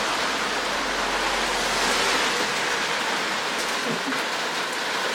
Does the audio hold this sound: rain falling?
yes